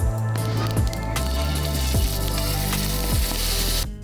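Balls of hamburger meat sizzle on a hot skillet over a campfire, a steady loud frying hiss with a low tonal hum throughout, close and without talk.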